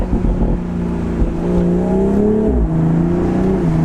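A 2020 BMW Z4 M40i sports car engine revs hard and climbs through several very quick gear shifts of its ZF 8-speed automatic in manual mode, each change briefly dropping the pitch before it rises again, loud and close.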